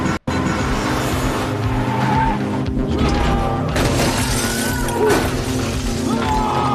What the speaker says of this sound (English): Why is he screaming in a car chase?